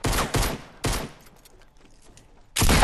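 Three quick bursts of suppressed pistol fire in a Fortnite match, each a short, sharp, muffled volley, with a quieter gap and then a longer, louder burst near the end.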